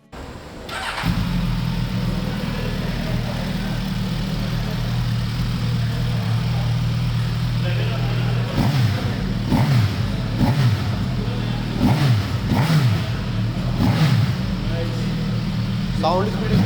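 A 2022 Suzuki Katana motorcycle engine idles with a steady, close low rumble, then gets several sharp revving blips over the second half while people talk nearby.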